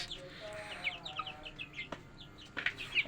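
Chickens on a small farm cluck and chirp quietly with short scattered calls over about three seconds, sounding faint and somewhat distant against a soft background.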